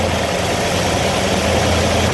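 A Mopar small-block V8 with dual four-barrel carburetors idles steadily up close, a loud, rough low rumble with an even lope and no talking over it.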